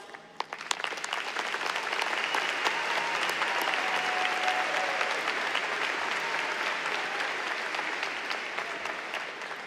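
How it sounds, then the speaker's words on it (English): A large crowd applauds graduating high school students at a commencement ceremony, sustained dense clapping that swells early and holds steady for several seconds before tapering slightly, heard at some distance in a big hall. "we would like to give you a round of applause"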